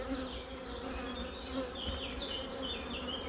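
Honeybees swarm and buzz steadily inside an opened beehive during an inspection, a dense continuous drone with shifting higher whines as individual bees pass close, no voices over it.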